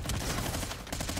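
Pistol and other gunfire in the first-person shooter Call of Duty: Infinite Warfare, a quick burst of several sharp shots packed close together, fairly quiet overall.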